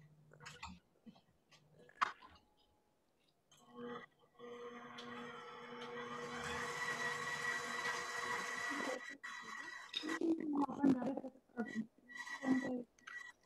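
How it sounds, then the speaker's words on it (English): An electric mixer with a whisk attachment runs slowly through cream cheese in a baking class, a steady whirring drone of several seconds, with soft voices and clattering before and after it. "I have this attachment. I'm just gonna put that on and let it whisk nice and slowly"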